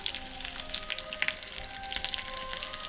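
Garlic and ajwain sizzle steadily in hot oil, a continuous close crackle with scattered bright pops and spits and no voices.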